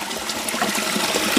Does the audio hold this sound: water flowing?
yes